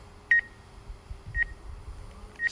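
A roof inspection drone setup in Leamington Spa emits three short, clear electronic beeps spaced about a second apart over faint background noise.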